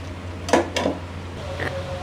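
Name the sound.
stirring and frying meat with yogurt for nihari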